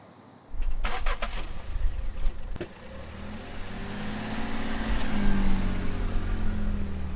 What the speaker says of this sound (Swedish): Idag kör jag en gasbil som går på Biogas 100.